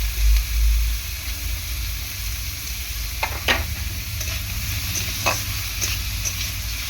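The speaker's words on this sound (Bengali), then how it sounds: "পেঁয়াজটা হালকা করে ভেজে নেওয়ার পর দিয়ে দেবো টমেটো কুচি।" Chopped onion and tomato fry in hot oil in a pan, making a steady sizzle with a few scraping stirs of a spoon partway through, close and fairly loud.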